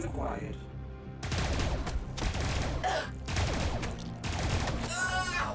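Necron Hexmark Destroyer's multi-threat eliminator opening fire in Warhammer 40,000: Battlesector, a dense rapid volley of bursts in several waves with sharp high-pitched energy whines, loud and close.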